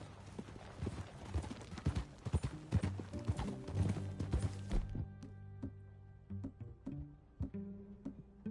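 Horse hooves clip-clopping in a steady rhythm in the video game Red Dead Redemption 2, with a brief whinny and background music that drops out midway, leaving the hoofbeats clearer.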